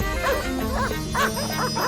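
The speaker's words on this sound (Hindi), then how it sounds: "अभी तक हमीदा के कुत्ते हमारे पीछे पड़े हुए थे और अब ये पीछे पड़ गए" Several dogs bark and yip repeatedly at close range in a street scene from a Hindi TV drama, with overlapping barks under steady background noise.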